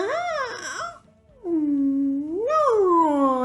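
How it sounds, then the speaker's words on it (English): A cat gives drawn-out, wailing meows, two long rising and falling cries close and loud with a short pause between them. "Meow, said the cat"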